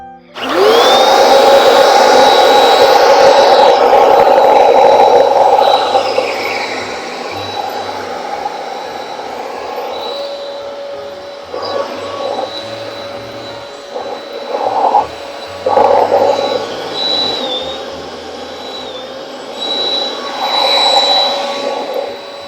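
A Eureka EasyClean handheld vacuum cleaner whirs on with a rising whine, runs loudly at a steady high-pitched drone, then its tone wavers and dips as it moves around.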